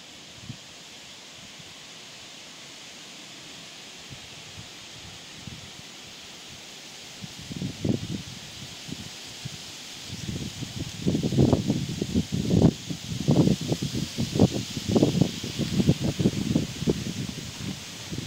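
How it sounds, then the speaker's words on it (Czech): Gusty wind stirs foliage around a castle ruin campsite, starting as a faint steady hiss and swelling after several seconds into repeated louder rustling bursts of leaves, with no talking. "Dneska to fouká."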